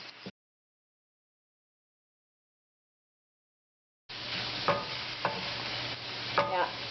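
Ground beef browning in a hot pan for a casserole, a steady sizzle broken by a few sharp utensil scrapes and taps, starting abruptly after a long stretch of silence.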